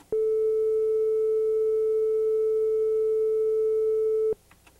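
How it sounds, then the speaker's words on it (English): A steady, pure flute-like tone at 435 Hz from a flute at 0 degrees centigrade, held evenly for about four seconds and then cut off cleanly, with no other sound around it. "When the flute at 0 degrees centigrade plays the note, it's of frequency 435 Hz and sounds like this."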